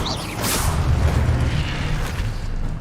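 An Incendio fire spell goes off in a Harry Potter style video game, a burst of whooshing flame with a low rumbling boom that swells and then fades, no talking over it.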